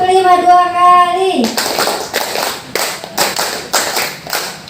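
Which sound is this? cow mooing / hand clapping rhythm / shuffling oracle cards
hand clapping rhythm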